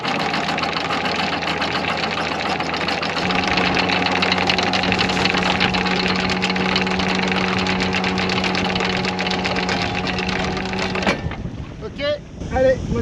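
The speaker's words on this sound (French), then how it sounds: "allez, moteur, on tourne." A sailboat's engine runs steadily with a droning hum and rattling mechanical texture, its tone shifting partway, then cutting to quieter knocks near the end.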